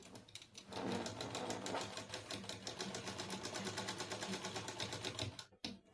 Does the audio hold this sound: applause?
no